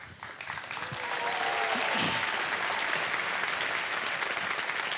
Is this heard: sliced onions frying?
no